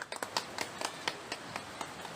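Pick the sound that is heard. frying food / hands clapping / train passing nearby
hands clapping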